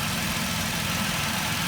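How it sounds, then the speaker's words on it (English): A car engine runs at idle with a steady, even rattle coming from a loose plastic flap inside the inlet manifold, heard close and continuous with no talking. "it's a plastic flap inside the manifold making a noise"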